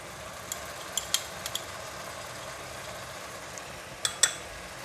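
Luffa and minced pork stir-fry in chili garlic oil and oyster sauce with a soft, even sizzle, punctuated by several sharp clinks of a spatula against the pan.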